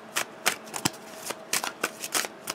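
Tarot cards being shuffled by hand, with a series of crisp riffling bursts in an irregular rhythm, close and fairly quiet, with no voice over them.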